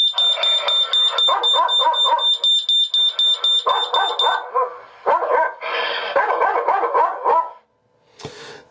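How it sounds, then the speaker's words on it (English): Daitem Enova wire-free intruder alarm siren playing recorded dog barking and growling, loud rapid bark bursts overlaid with a high steady warning tone, then a brief pause and a final short sound. "you hear the growling, the barking, and also you hear a tone over the main control unit"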